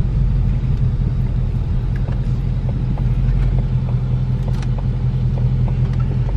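Steady low engine rumble of a 2020 Ford Mustang GT driving through a parking lot, a continuous near hum with slight rises as it picks up speed, no voices.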